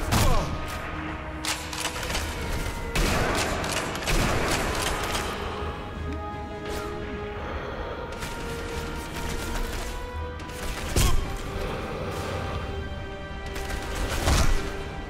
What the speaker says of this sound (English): Where's all this shooting coming from?